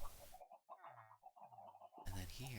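Video game chickens make short, soft clucking calls in a quiet stretch between louder bursts of game sound at the start and end.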